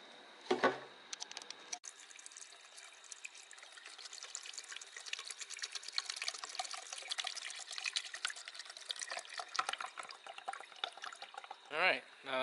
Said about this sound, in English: start pouring the chemical and the distilled water